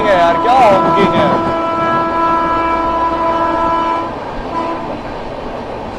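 One train overtakes the Barauni Bandra Awadh Express, its loud horn blaring for several seconds over the rumble of the rails, close by and fading slightly at the end, with some voices in the background.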